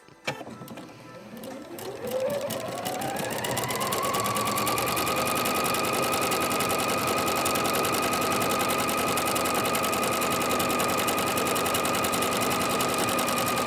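A sewing machine stitches a pet rag quilt with gray thread on top and red in the bobbin, its motor spinning up over the first few seconds into a steady, loud, continuous hum and rapid needle chatter, with no talking.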